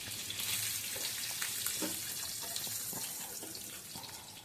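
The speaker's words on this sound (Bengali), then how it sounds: "এবার একে একে করে ডিমগুলোকে কড়ার মধ্যে দিয়ে আমি ডিমগুলোকে একটু হালকা ভেজে নেব।" Eggs fried lightly in oil in a pan, seasoned only with salt, give off a steady, close crackling sizzle with scattered pops and spits that carries on evenly throughout.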